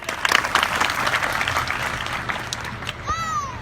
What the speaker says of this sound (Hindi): ऐसे समाज के लिए एक बार जोरदार तालियां होनी चाहिए